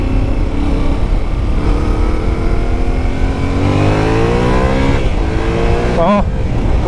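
Motorcycle engine accelerating on the road, a loud continuous drone whose pitch climbs steadily through the gears, with wind noise throughout and a brief voice near the end.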